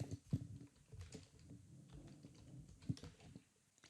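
Fingers tap a computer keyboard while code is written in VS Code, soft, close and irregular, with a few heavier keystrokes breaking through the quiet clatter.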